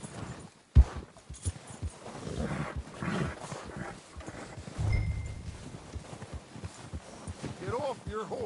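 Horse hooves clip-clop on the ground in a video game, a loose uneven rhythm of soft thuds beneath voices talking, with a sharp knock near the start.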